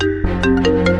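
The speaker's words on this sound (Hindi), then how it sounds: "मेरा फोन बज रहा है।" A melodic electronic phone ringtone plays loudly and steadily, its tones repeating in a bright, close pattern with no one speaking.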